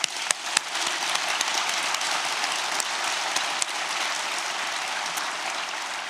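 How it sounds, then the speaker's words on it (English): Audience applause at a credit union's 50th annual meeting, thanking staff and volunteers: steady, dense clapping from a crowd that holds evenly for several seconds, with a few sharper claps standing out. "Please join me in a round of applause."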